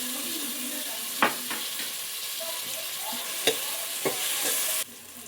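Tomatoes are added to a hot pan and stir-fried for Bangalore-style dal khichdi, giving a steady soft sizzle broken by a few sharp scraping clacks of the spoon against the pan.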